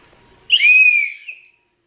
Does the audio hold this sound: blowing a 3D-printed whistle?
yes